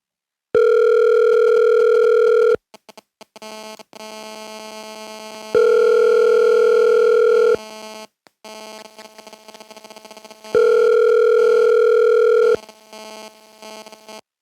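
Touchscreen telephone placing a call to Apple support: three long, steady electronic call tones, each about two seconds, separated by quieter gaps with short clicks, clear and close with no talking.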